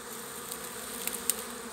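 Honeybees buzzing at a hive, a steady close insect drone with faint brief clicks and no talk.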